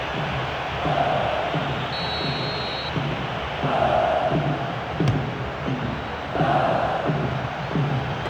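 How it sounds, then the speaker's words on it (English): A stadium crowd in the PES 2013 football game roars in waves after a near miss, the swell rising and falling over steady crowd noise with a sharp kick thump midway. "judging by the crowd's reaction, they thought he'd done enough too"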